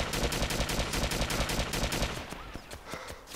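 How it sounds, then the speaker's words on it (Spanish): Gunfire in the video game DayZ, a fast volley of sharp shots crowding together for about two seconds and then thinning to a few scattered, fainter cracks, with no talk. "Los disparos me vienen a mí de la derecha."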